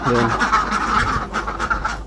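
Laying ducks quack loudly and close, several calls overlapping in quick succession as they are let out to feed.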